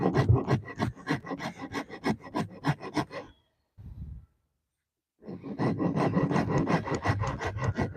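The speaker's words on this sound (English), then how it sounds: "while I'm rasping this down" A hand rasp files down a sculpture outdoors in quick, rhythmic scraping strokes, close and clear, pausing briefly mid-way before the steady back-and-forth rasping resumes.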